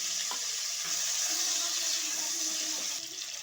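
Chopped tomatoes frying in hot oil with mustard seeds for a fish curry make a loud, steady, close-up sizzle and hiss that fades slightly near the end.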